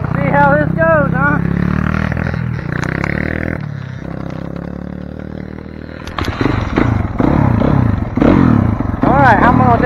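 A motorcycle engine is started and revved at close range, cranking and roaring in uneven surges while people talk over it.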